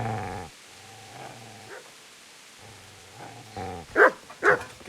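A dog in Kingdom Come: Deliverance barks and growls, with low rumbling snarls, a few whimpering yips and then two sharp, loud barks near the end, moderately close.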